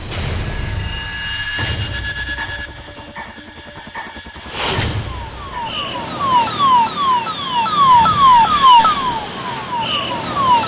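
An ambulance siren wails in repeated falling sweeps, growing louder in the second half after a stretch of traffic noise and a few sharp bursts.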